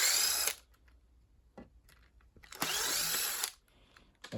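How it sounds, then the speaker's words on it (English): Screws being driven out of the side casing of a GTech Air Ram AR2 vacuum cleaner with a power driver, heard as two short, close whirring bursts separated by quiet handling clicks. "Let's take out the screws on the side."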